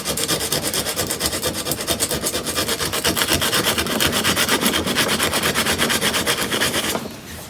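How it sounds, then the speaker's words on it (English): Rough 40 grit sandpaper is worked by hand in fast, rhythmic back-and-forth strokes, loud and close, with no talking, until it stops abruptly near the end. "I'm just going to do a little bit of 40 grit by hand."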